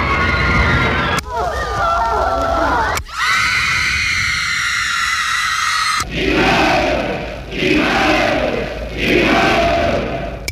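A recorded crowd roaring and cheering, loud and continuous, shifting abruptly between different crowd recordings with surging shouts and swells.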